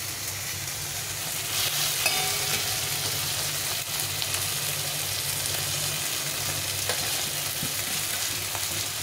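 Taro leaves stir-fry with a hilsa fish head in hot oil, giving a steady, close, unbroken sizzle with occasional faint stirring scrapes throughout.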